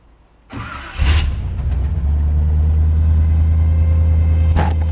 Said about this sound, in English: But I'll start the car up real quick so y'all can